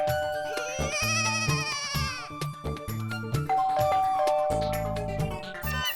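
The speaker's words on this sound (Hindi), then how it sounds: "इसकी तो घंटी भी बज रही है।" A doorbell rings over and over at a door in a busy household scene, a bright sing-song chime sounding in short bursts over music and background noise.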